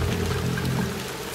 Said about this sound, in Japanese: 水たまりは音がするでしょ。